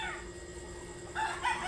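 Fighting roosters in a gamefowl yard keep up a faint background of clucks before one bird lets out a loud, close crow near the end. There is no talking.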